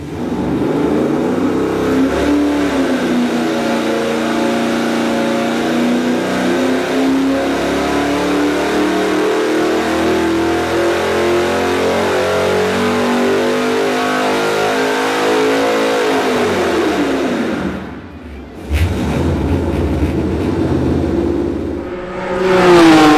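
Supercharged LS3 V8 with an LS9 blower cam on a test run, a loud sustained roar climbing steadily in pitch, then a sudden drop off throttle and a quick rev back up, close and alone.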